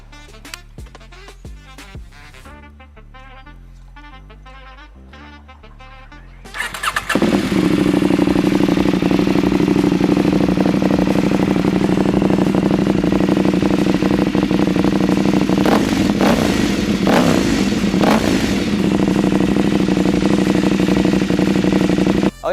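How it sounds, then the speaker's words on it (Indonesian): A 2021 KTM 790 Adventure R motorcycle with an aftermarket Akrapovic exhaust cranks and fires up after a few seconds of quieter clatter. A deep, loud, close idle follows, then several sharp throttle revs near the end, with no talk. "kita akan coba dengerin suara knalpotnya super bass dari Avionics"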